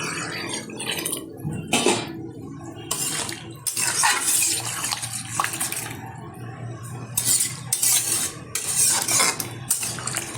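Water poured into a pot of home-style chicken and potato curry, a rushing splash with clinks of utensils against the pot, fairly close and moderately loud, with bursts of pouring and stirring across the clip.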